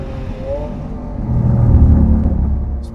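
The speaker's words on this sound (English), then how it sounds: "I think it sounds better than the old Aventador as well." A Lamborghini Aventador S in Corsa mode on a track gives a deep, loud engine rumble that swells and builds toward the middle as the car pulls away, close and continuous.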